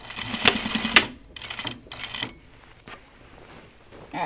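A sewing machine runs in short, close bursts of rapid stitching along pajama bottoms near the elastic waistband, with pauses between runs.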